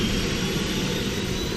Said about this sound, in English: This is a Bell Flight twin-engine helicopter.